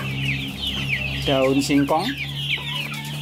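Chickens in a backyard flock fed on ground corn, bran and leaves cluck in a loud, close burst of calls, with someone talking over them throughout.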